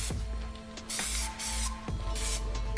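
Aerosol can of metallic Plasti Dip spraying light coats, several short hissing bursts with brief pauses between, close up.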